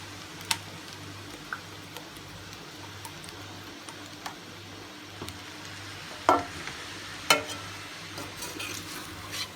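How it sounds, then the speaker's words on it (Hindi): A spoon stirring and mixing chicken vegetable macaroni in a pan, with faint scraping taps and a few sharper clinks over a low steady kitchen hum. "अब मैं इसको मिक्स करने लगी"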